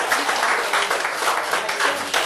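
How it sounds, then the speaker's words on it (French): Dense crowd applause fills the short stretch, steady and fairly loud throughout, given for a performer at a French-language political debate event about Haiti. "Un petit applaudissement pour Foxy Dana, s'il vous plaît"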